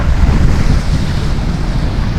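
Big ocean waves at sea in the Pacific during the northeast monsoon, heard from a small boat: a loud, continuous roar of surf and rushing water with heavy wind buffeting the microphone.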